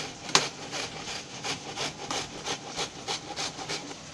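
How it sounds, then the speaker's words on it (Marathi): Raw green mango is grated by hand, a steady series of rhythmic scraping strokes, about three per second, close and moderately loud with no talking. "आता मी किसून दाखवते"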